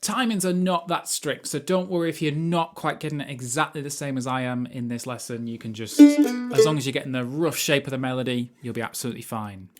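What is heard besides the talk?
None of the usual background noises is heard.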